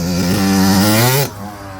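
A Yamaha YZ dirt bike engine screams loudly and close, holding a high revving note for over a second before abruptly cutting back to a lower idle.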